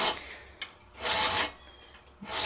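A hand file works a concave butcher chasing tool at a 60 degree bevel in three separate rasping strokes, close and fairly loud, with a small tap between strokes.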